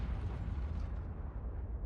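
Tank gun fired in World of Tanks, a single heavy booming shot with a mechanical rattle, fading out over under two seconds.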